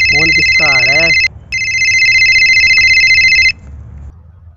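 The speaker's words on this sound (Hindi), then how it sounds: "कि फोन किसका आ रहा है?" A telephone rings loudly in a steady electronic tone, briefly cut off and then resuming, after a short spoken exclamation at the start.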